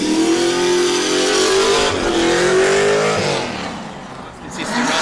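A drift car revs hard on a track during a show lap, its engine note loud and sustained with rising pitch, then easing off and building again toward the end.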